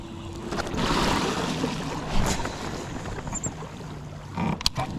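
A boat motor drones out on the water during a fishing trip, with a low engine rumble under gusts of wind noise and a few sharp knocks and splashes near the end.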